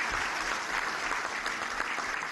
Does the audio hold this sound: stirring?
no